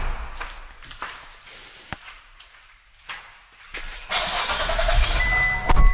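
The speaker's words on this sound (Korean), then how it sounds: "차 소리가 이상하고" A car engine that sounds abnormal cranks and catches in an underground parking garage, rising into a loud running rumble after a few seconds of quiet shuffling.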